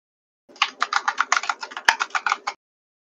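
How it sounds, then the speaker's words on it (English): Crisp typing on a computer keyboard, about a dozen quick keystrokes in an uneven burst lasting two seconds, close and clear against silence, ending abruptly. "Whoever's typing it sounds very lovely."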